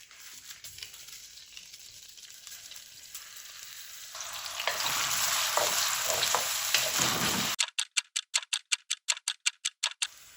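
Finely chopped onion hits hot oil; the oil sizzles and crackles steadily, swelling louder as it goes in, followed by a rapid series of sharp rhythmic clicks.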